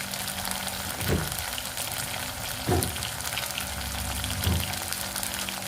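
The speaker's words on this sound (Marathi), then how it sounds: "दालचिनी असा मसाला टाकलेला आहे आता हे तो तळतच आहे" Whole spices such as cloves, peppercorns and cinnamon frying in hot oil for a dhaba-style shev bhaji tadka, a steady close sizzle broken by three soft stirring knocks, with no talk.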